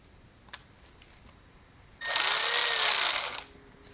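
A 3/8 inch cordless ratchet running: after a faint click, one loud continuous mechanical whir of about a second and a half, close and alone.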